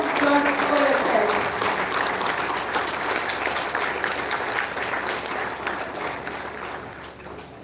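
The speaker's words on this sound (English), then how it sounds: "Big round of applause for yourself." Applause from an audience at a national seminar, a dense steady clatter of many hands lasting throughout and tapering slightly at the end, with faint voices underneath.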